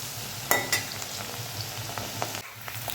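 Sliced okra (vendakkai) frying in a pan for kara kuzhambu gives a quiet, continuous sizzle, with a couple of sharp stirring clinks near the start.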